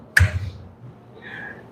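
A single sharp finger snap rings out close and clear, followed by a brief faint tail of room sound.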